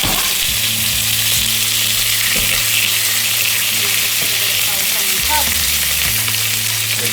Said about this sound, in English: I'm just getting Dan's steak out and I'm going to fry it because my pan's hot